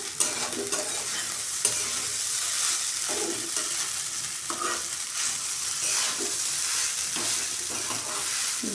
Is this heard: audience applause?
no